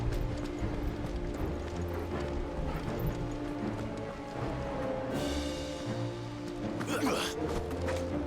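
Horse hooves clip-clop at a steady rhythm in Final Fantasy XVI, moderately close, under a dense layer of game music and ambience, with a brief swell of other sound near the end.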